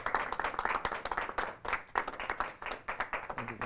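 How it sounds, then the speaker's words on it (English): A small audience gives a round of applause to welcome a guest, with uneven, fairly close hand claps in bursts lasting a few seconds, the clapping irregular rather than a dense roar. "We can give him a round of applause."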